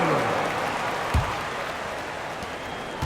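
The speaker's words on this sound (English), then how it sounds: "And a big round of applause to your D-Town crew." Sustained arena crowd applause and cheering for the Dallas Mavericks' D-Town crew during an NBA game timeout, a steady broad roar with a few sharp bursts.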